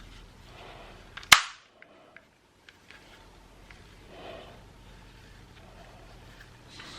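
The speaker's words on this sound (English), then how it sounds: "You'll hear it click back together." A TV remote's plastic casing snaps back together with one sharp, close click, followed by a few faint taps and quiet handling.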